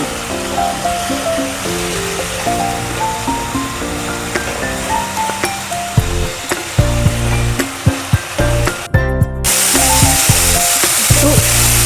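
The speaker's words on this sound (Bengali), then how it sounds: "ভাজা ভাজা করতে হবে মশলাটা" Onion, ginger-garlic paste and chicken masala fry together in a pan for a spinach chicken dish. A steady sizzle sits partly under loud rhythmic background music, then turns into a fuller hiss near the end.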